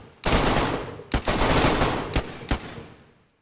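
Loud automatic gunfire in the video game DayZ, a sustained close-range burst that breaks into several rapid volleys with brief pauses, ending in a short decay.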